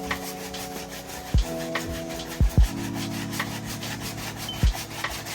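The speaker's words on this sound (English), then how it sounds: "I'm going to be using a medium texture brush instead of a soft texture brush" A medium-texture brush scrubs a dirty New Balance 2002R suede shoe in quick, close, rasping strokes, with a few brief knocks between passes.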